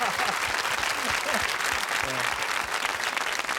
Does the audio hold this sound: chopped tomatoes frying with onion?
no